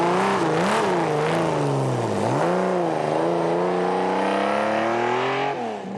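A Porsche with an air-cooled rear engine drives past at a classic car rally, its engine note rising and falling through the gears, loud and close throughout.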